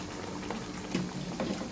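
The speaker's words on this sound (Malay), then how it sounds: "Kita tambahkan air." Water poured into a cooking pot of stingray asam pedas fish stew, a continuous bubbling, pattering liquid sound, close and steady, with no talk.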